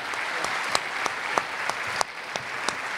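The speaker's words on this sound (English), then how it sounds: "How about a big round of applause for these wonderful actors for incredible acting." Steady audience applause fills a comic convention panel for the actors of an animated series, dense clapping with a few sharper individual claps standing out, continuous and fairly close, with no talk over it.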